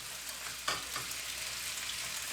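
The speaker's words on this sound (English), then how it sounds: "fry your skin up until it's crispy." Chicken skin fries in a pot, a steady close sizzle and crackle that holds throughout, with one brief stir or knock near the start.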